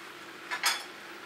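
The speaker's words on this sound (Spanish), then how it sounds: "Ahora yo le tiro su cebolla por arriba." Onion pieces tossed onto beef steak frying in a pan, giving two short close clattering impacts with a brief sizzle-like hiss, otherwise quiet.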